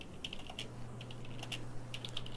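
Fingers type on a computer keyboard in quick, uneven bursts of close clicks over a low steady hum.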